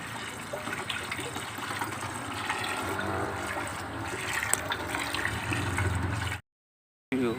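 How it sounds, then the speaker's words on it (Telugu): Water poured into a drum, a continuous close gushing and filling sound that runs steadily before cutting off abruptly, then briefly resuming. "మనము ఇప్పుడు ఈ డ్రమ్ముకు వాటర్ అనేది కలుపుకుంటాము"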